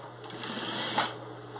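A sewing machine stitches a fabric placemat with a one-centimeter seam allowance. It gives a steady, fairly quiet mechanical whir with a rapid needle patter throughout.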